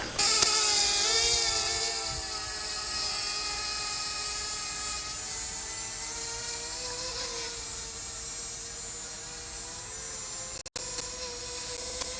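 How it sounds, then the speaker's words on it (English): A drone lifts off and hovers near a waterfall, giving a loud, steady, high-pitched buzzing whine of spinning propellers that holds close and constant throughout, with a brief dropout near the end. "When this drone started going up and it started to shake a little bit"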